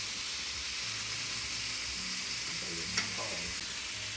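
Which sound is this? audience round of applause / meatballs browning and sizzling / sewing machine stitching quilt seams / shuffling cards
meatballs browning and sizzling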